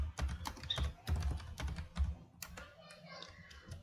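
Fingers type on a computer keyboard in quick, uneven bursts of close, clicking keystrokes, with short pauses between runs and some light tapping toward the end.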